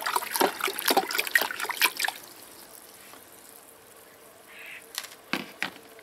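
A homemade fermented garden infusion, left to steep in warm water in the sun, is poured out in a close burst of splashing liquid, then tapers to a few scattered drips and small splashes.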